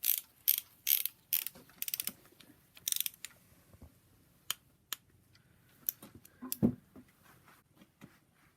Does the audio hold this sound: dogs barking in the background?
no